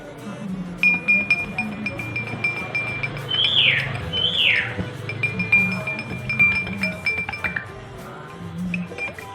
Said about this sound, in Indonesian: saya aduk menggunakan sendok